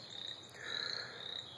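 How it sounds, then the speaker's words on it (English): Frogs croaking at a calm evening lake, a dense, faint chorus of rapid pulsing trills layered together and heard from a distance. "the frogs are croaking"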